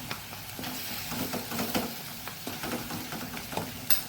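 Ginger garlic paste sizzles in masala for a soya chunks gravy, with a close, steady frying crackle broken by repeated stirring scrapes.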